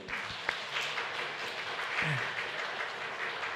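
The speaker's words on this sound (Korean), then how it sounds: "우리 박수로 한번 환영할까요?" A church congregation applauds steadily, a dense wash of clapping with a few voices mixed in.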